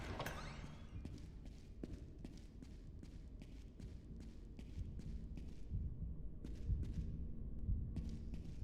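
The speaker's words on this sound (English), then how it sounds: "I hear my heartbeat." Steady thumping heartbeat from a video game played during a fright-themed birthday subathon stream, a regular pulse of soft low throbs repeating throughout under a constant hum, with no talking over it.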